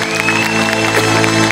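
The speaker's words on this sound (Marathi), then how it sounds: "आजच्या आपल्या प्रेक्षकांचं पण आपण सगळ्यांनी टाळ्या वाजवून कौतुक करायला हवं" A studio audience on the Marathi comedy show Maharashtrachi HasyaJatra claps and cheers, a dense wash of applause with a few whoops, loud and steady throughout the short stretch.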